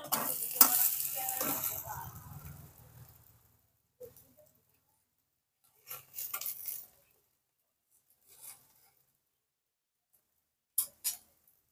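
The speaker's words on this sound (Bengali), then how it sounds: "কিন্তু এবার অল্প তেলের ওপরে আমাদের এটাকে ভাজতে হবে" A vegetable dinner shallow-fries in a little oil in a pan over medium heat, sizzling softly for a few seconds before fading into near silence broken by a few faint clinks.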